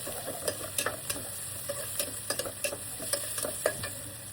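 Onions frying in a pan for a sea fish curry, a faint steady sizzle under quick, uneven stirring scrapes from a spoon, with no talking.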